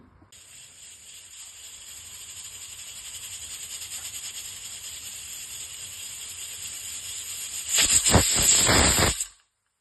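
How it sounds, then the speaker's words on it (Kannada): Pressure cooker on the stove while idli sambar cooks, a steady hiss rising over several seconds before a loud, sharp whistling burst near the end that cuts off abruptly. "ನೋಡಿ, 3 ವಿಸಿಲ್ ಆಯಿತು."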